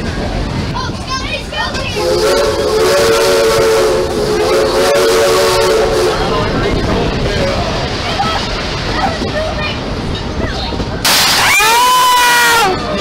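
A steam train whistle blows loudly near the end, rising over a busy, noisy amusement park scene at Cedar Point with people talking throughout.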